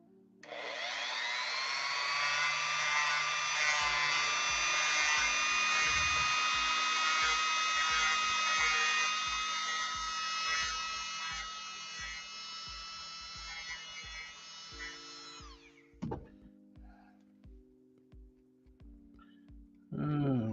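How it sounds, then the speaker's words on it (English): A Dremel rotary tool used for customizing runs at steady speed, a loud, sustained high-pitched whine lasting about fourteen seconds before cutting off, with faint talk underneath and afterward. "One tool I highly recommend if you're going to be customizing,"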